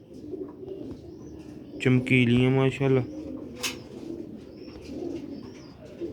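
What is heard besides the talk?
pigeons cooing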